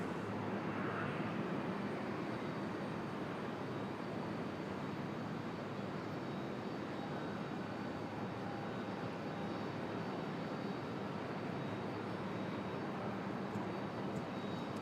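A passenger airplane arriving at Raleigh Durham International Airport on a flight from Austin, a steady broad roar of jet engines heard at a distance that stays constant throughout, with no voices.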